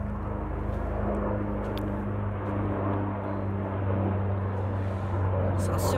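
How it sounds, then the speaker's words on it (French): A military helicopter drones steadily overhead, a low rumbling engine hum that persists throughout with occasional faint clicks, moderately distant. "Eh oui, hélicoptère!"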